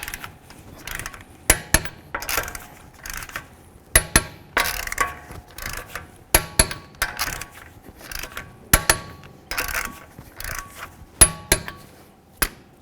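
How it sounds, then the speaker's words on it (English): Torque wrench clicks while tightening lug nuts on the front wheel of a 2013-17 Honda Accord during a brake job, a series of sharp metallic clicks and ratchet ticks in bursts, close and clear with no talking. "The next thing we're going to do is torque these lug nuts to 80 foot-pounds."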